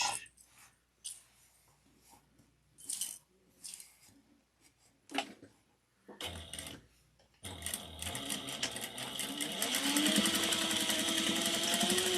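Sewing machine stitching the boxed corners of a handbag at a 3/8-inch seam, starting with sparse short bursts and handling noises, then running in a steady loud continuous whir for the last several seconds.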